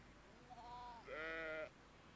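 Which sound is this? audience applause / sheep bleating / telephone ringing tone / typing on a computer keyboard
sheep bleating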